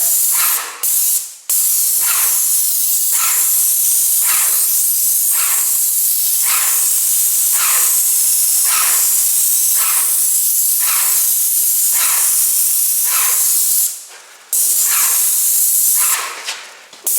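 An airless sprayer lays gloss water-based enamel onto trim in steady bursts of loud hissing spray, repeated pass after pass with short pauses between, alone with no talk.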